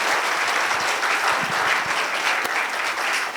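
Audience applause at the close of a Korean AI symposium lecture, a dense, steady wash of many hands clapping throughout with no talk over it.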